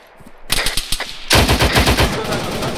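Automatic machine gun fire from a military shooter game, ARMA 3: a sparse, quiet opening, then rapid, loud bursts of shots rattling in fast succession through to the end.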